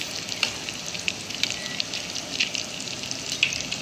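Cheesy kebabs sizzle in a pan over high heat, a steady bright crackle with small pops scattered through, close and fairly loud, with no voices.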